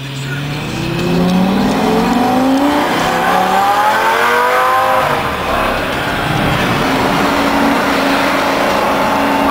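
A yellow Lamborghini Gallardo roars loudly while cruising, its engine revving in rising and falling sweeps over steady road noise, with people talking faintly in the background.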